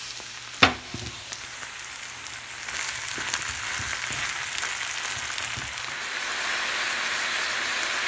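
Minced meat with salt sizzling in a pan over browned onion, made as a filling for homemade Turkish borek, with a steady crackling fry after a sharp clatter as the meat goes in.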